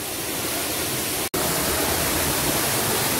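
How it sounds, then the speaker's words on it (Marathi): Roaring waterfall crashing down inside a hidden cave in the Konkan, a dense, loud, unbroken wash of noise with one brief dropout partway through. "आवाज माझा थोडा कमी येत असावा धबधब्याच्या आवाजामुळे"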